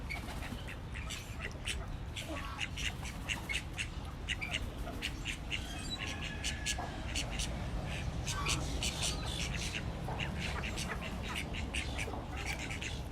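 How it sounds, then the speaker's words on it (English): Call ducks squawk and quack repeatedly in short bursts amid a busy outdoor bird chorus, with a steady low rumble underneath. "Call ducks, their bodies are built for water"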